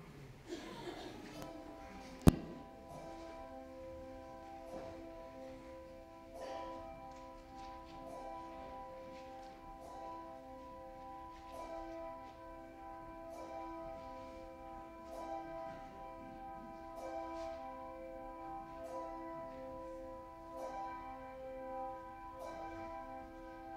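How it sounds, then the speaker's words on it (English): Church bells peal steadily for All Saints observance, a regular series of ringing strikes with sustained overlapping tones, moderately distant and fairly quiet, with one sharp knock near the start. "we will sing that after the pealing of the bells"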